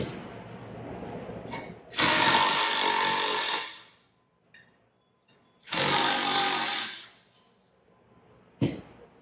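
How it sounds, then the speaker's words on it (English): Two long, loud bursts of a power tool, an impact driver or ratchet, backing out 1/4-inch Allen bolts on a metal Wilden pump, separated by quiet gaps with faint clicks of handling. "we'll have to replace these 1/4-inch Allen bolts, and we'll have to remove that snap ring"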